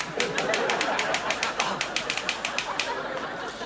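Rapid typewriter typing, a quick string of sharp, close key strikes in a fairly even rhythm, ringing out over a low background murmur.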